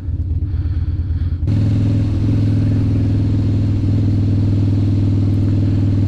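A 2016 Harley-Davidson Dyna Street Bob with the 103 engine being ridden on a rainy day, its V-twin starting as a loping idle-like pulse then surging into a loud, steady droning rumble with wind noise, close and without speech.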